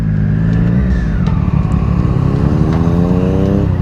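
A car engine revs in neutral, loud and close, with the pitch rising and falling through a couple of sweeps over a rumbling idle, and no voices.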